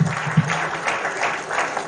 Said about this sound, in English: A big applause to the Right Honorable Speaker.